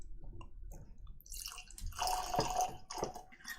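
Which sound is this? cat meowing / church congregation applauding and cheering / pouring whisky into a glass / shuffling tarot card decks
pouring whisky into a glass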